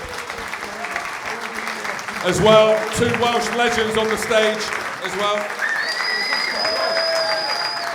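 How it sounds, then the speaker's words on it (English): Audience at a live rugby podcast show applauding, broad crowd clapping that swells and holds while someone speaks over it through a microphone. "Give yourselves a round of applause."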